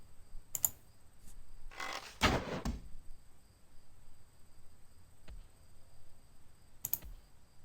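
Mouse clicks sound during a video game, with a few sharp, isolated clicks and one short cluster of rapid clicking, spread out over quiet room tone with no voices.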